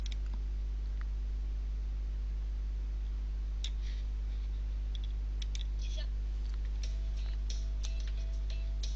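Mouse clicks while selecting link options in video editing software, a few sharp, faint ticks spaced apart over steady low electrical hum and room noise.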